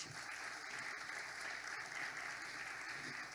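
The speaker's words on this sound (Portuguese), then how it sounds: "Vamos aplaudir Jesus." A church congregation at a Friday evening service applauds steadily and continuously, dense clapping holding even throughout at moderate loudness.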